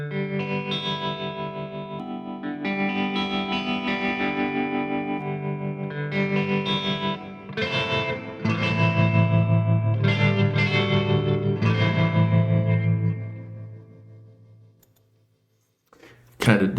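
Guitar played through a pedalboard effect chain with the phase flipped, giving a chorused, slightly distorted tone; a run of sustained chords and notes, then a short pause and a brief final strum.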